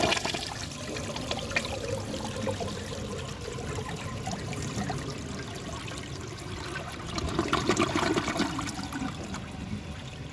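A 1974 Eljer Sanus low-tank toilet flushes, a steady rushing and gurgling of water that runs the whole time and swells a little near the end.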